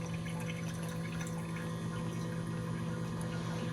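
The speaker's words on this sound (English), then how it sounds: "And the pump is still running." A water pump hums steadily inside a TD1200 hydrogen gas generator, drawing water through the system with a constant low mechanical drone and faint watery trickle, close and unbroken, with no talking.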